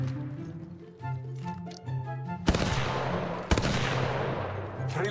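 Gunfire in the video game Apex Legends: a couple of sharp, loud blasts with ringing decay, following a stretch of tonal musical sounds.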